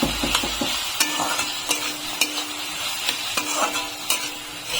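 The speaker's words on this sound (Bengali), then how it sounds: "এখন আমি দিয়ে দিচ্ছি 2টো কাঁচা লঙ্কা কুচি, আর দেবো সামান্য পরিমাণে একটু হলুদ। এখন এগুলোকে ভালো করে ভেজে নেব।" Chopped green chillies and turmeric frying in a pan, a soft steady sizzle under repeated sharp scrapes and taps of a spoon stirring against the pan.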